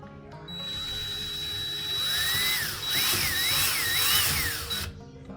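A power drill whirs while driving screws into an IKEA SLATTUM bed frame, the motor pitch rising and wavering in several pulses over a steady hum, close and fairly loud with no talking.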